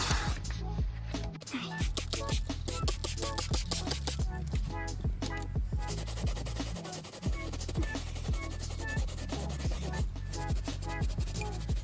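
Dirt scraped off perforated leather car seats in a Hyundai Tucson, a rapid run of short, close scraping strokes in an uneven rhythm that carries on throughout, with a voice faintly audible underneath.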